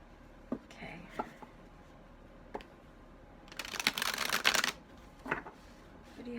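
Tarot cards being shuffled: a dense, fast riffle of about a second near the middle, with scattered soft card taps and handling clicks before and after in a quiet room.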